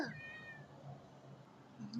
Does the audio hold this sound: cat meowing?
yes